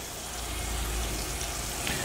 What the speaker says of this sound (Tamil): இப்போ நல்லா இது ஃப்ரை ஆகணும், ப்ரௌன் ஆகணும்.